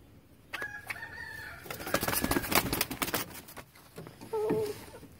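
A rooster makes low, rough grumbling and clucking calls close by, with a few short sharp notes at a moderate level.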